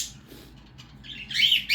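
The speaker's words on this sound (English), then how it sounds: "And that's Sebastian, our green cheek conure." A sharp, shrill squawk from a green-cheeked conure near the end, after a quiet stretch with faint background noise.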